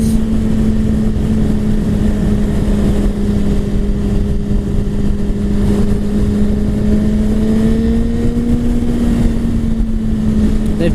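A 2017 Suzuki GSX-R1000 motorcycle engine drones loudly and steadily while riding, holding a sustained tone that slowly climbs as it pulls through the gear, with heavy wind rush.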